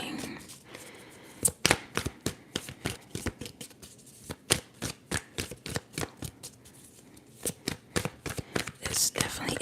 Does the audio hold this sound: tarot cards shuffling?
yes